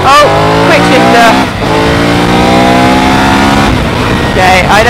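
A Triumph Tiger 900 Rally Pro motorcycle accelerates hard on a road and lifts into a wheelie, its engine note climbing through rising revs with quick-shifter gear changes, loud and close with wind noise.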